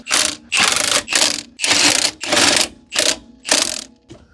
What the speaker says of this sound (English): we'll do the 80 foot-pound torque stick